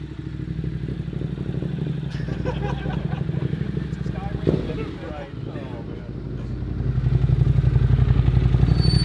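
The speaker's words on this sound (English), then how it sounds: "that's definitely a Luke rev" A motorcycle engine from a 2008 Honda CBR 600RR race build runs steadily, with a sharp rev midway and rising again toward the end, close by, with people talking over it.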